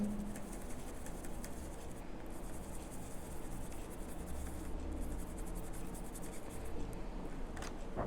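Brush strokes painting leaves onto a hubcap clock, a soft, continuous close scratching and rubbing against the surface under steady background noise, with no clear speech.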